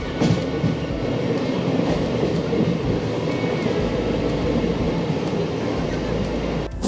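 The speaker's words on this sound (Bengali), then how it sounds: "আমাদের ট্রেন চলেছে হাওড়া বর্ধমান কর্ড লাইনের উপর দিয়ে" A passenger train speeds at night along the Howrah-Bardhaman chord line, heard from inside as a continuous loud rumble of wheels and carriages with faint rail clatter throughout.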